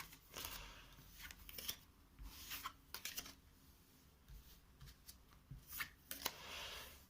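Cards from The 7th Continent board game being gathered from the board and put away, with repeated soft shuffling, sliding and tapping of card stacks in short bursts, close and quiet.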